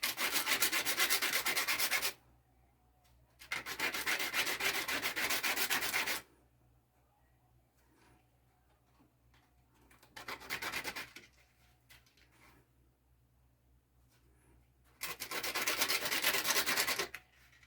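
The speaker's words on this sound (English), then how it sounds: "So I'll hold them sideways and just sand the edge of the seed." Honey locust tree seeds are sanded along their edges by hand to scarify them, making four separate bursts of close, gritty rubbing, each lasting one to three seconds, with quiet pauses between them and no talk.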